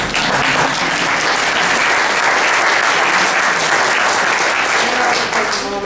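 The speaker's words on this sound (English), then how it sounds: "I think you all deserve to give them a round of applause for helping them." A crowd at a swearing-in ceremony applauds the families, loud, sustained clapping from many hands filling the room evenly from start to finish.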